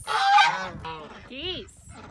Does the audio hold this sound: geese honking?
yes